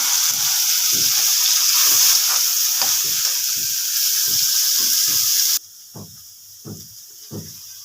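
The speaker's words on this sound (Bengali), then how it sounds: "তেল গরম হয়ে গেছে, সয়াবিনটা দিয়ে দেবো ওটা" Soybean chunks dropped into hot oil, seasoned with cumin seeds, set off a loud steady sizzle that cuts off abruptly, leaving quieter crackles and a few spoon taps against the pan.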